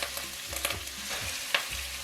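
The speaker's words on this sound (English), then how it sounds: "I'm going to go ahead and add my meat into here." Meat dropped into hot olive oil in a pot sizzles and hisses steadily, with a few soft scrapes and taps of stirring, close and fairly quiet.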